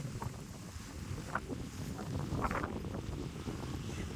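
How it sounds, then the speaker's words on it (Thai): Strong wind blows against a tent while camping in cold weather at the Khao Kho post office campsite, making a constant rushing roar with gusts that flap the fabric. "โอ้ลมแรงมากเลย"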